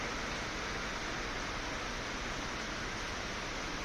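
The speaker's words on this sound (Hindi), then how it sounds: "बहुत ही तेज बारिश है दोस्तों। आप आवाज़ सुन पा रहे होंगे।" Heavy torrential rain pours steadily after days of continuous downpour, a dense even hiss with no breaks, faint and distant-sounding, with no voices.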